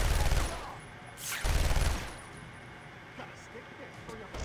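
Enemy gunfire in Batman Arkham Asylum, PS4 Return to Arkham edition: two loud, close bursts of rapid shots early on, followed by quieter clinks and scattered impacts.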